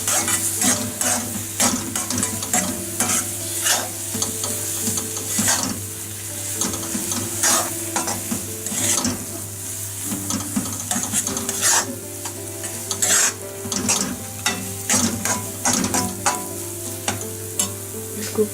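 Dry masala powders for a paneer masala cook in a pan over a low flame, stirred with steady, repeated scraping strokes over a constant close sizzle, with no voices.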